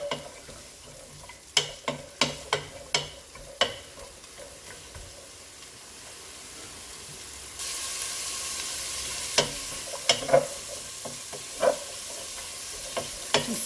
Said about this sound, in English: I like to get the capsicum started first so they can start sweating down